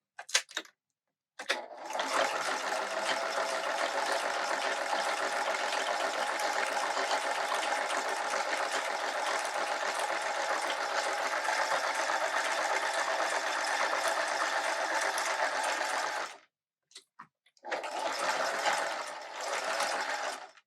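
A sewing machine runs in one long steady burst while stitching a strap, a brief pause near the end followed by a short second run; the needle-down pivot happens between the bursts, and no one speaks.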